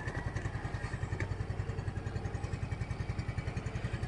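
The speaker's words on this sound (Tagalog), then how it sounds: "This is the Yamaha Pacho 125cc. Sound check natin yan." A Yamaha Fazzio 125 scooter engine idles up close, a steady, even chugging pulse with a light mechanical clatter and no revving.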